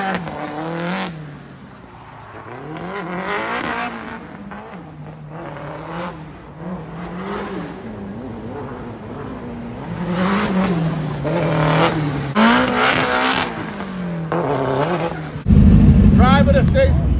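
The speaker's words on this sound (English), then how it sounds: "We're gonna do a little test lap here on the little drift course." Cars running a test lap on a small drift course at a festival, engines revving and rising and falling in pitch near and steady, with a louder burst at the end; people talk over the engine noise.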